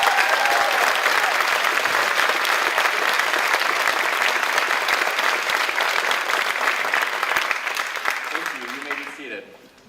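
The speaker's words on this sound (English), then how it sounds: "Please give these nominees a round of applause." A crowd applauds award nominees at a high school honors night, steady and loud for about nine seconds before tapering off at the end.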